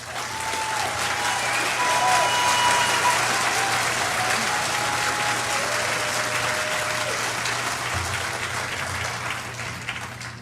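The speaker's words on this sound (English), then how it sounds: "Let's give them a round of applause" A graduating class gets sustained, loud applause at a 2021 high school commencement ceremony, the dense clapping of a large crowd holding steady for the full ten seconds with a faint murmur beneath it.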